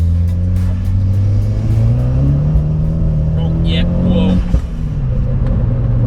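A 310 bhp front-wheel-drive Corsa VXR with a hybrid turbo and fully forged engine pulls hard along a country B road, its engine note rising steadily in pitch as it accelerates, loud and close, with voices talking over it.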